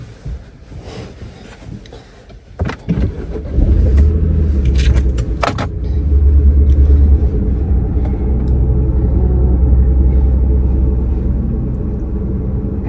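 A car engine starts up after a few clunks and rattles, then idles with a steady, loud low rumble and a constant airy hum from the heater running.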